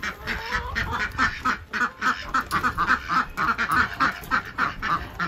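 Several ducks quack in the rain. A busy, close chorus of nasal quacks overlaps in uneven bursts, loud and continuous from start to finish.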